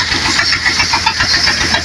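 A tractor engine with soil caked inside runs steadily during cleaning, loud and close, with a rapid knocking pulse over a hissing rumble.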